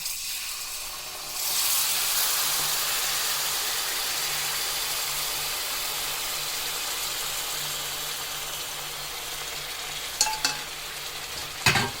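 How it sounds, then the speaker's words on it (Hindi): Hot jaggery syrup is poured into semolina halwa in a pan, bursting into a loud, steady hiss of sizzling that carries on while it is stirred, with a couple of sharp utensil clinks near the end. "अब इसके ऊपर हम गुड़ की जो चाश बनाई है इसको डालेंगे।"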